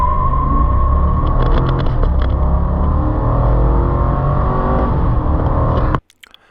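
A 2019 GMC Sierra Denali 1500 pickup with the 6.2-liter V8 pulls hard under full throttle, its loud steady engine roar climbing for about six seconds before cutting off abruptly, leaving near silence with a few faint clicks.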